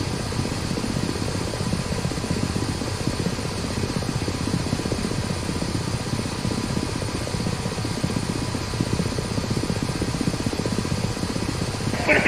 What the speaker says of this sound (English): The helicopter will then initiate an automatic turn towards the target point.